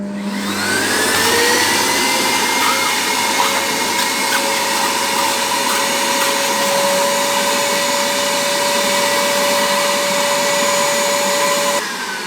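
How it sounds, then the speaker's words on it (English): Evolution R15VAC wet and dry shop vac sucking up water, a loud steady motor whine and airflow roar whose pitch climbs as the tank fills, then cutting off abruptly near the end. "I'm going to do now is demonstrate how the vacuum turns itself off when this tank gets full."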